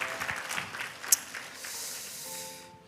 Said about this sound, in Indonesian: Yang percaya tepuk tangan buat Tuhan Yesus yang sudah bangkit